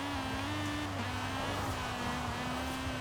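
Turbocharged Honda-engined car driving in Forza Horizon 4, a steady engine drone with a sustained low tone that dips briefly and recovers, running continuously without any voice.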